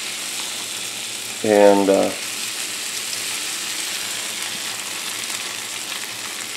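Hash browns frying in a pan on medium-low heat make a continuous, even sizzle throughout, with a voice briefly speaking over it.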